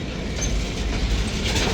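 A long freight train rolls past on the rails with a loud, continuous rumble and rattle of wagons, steady clickety-clack under a broad roar, close by and without voices.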